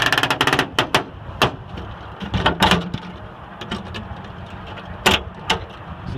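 Small, delicate engine compartment latches on a Musketeer aircraft being opened during a pre-flight check, sharp close clicks and clacks in several bursts with a quieter stretch between them, no talking.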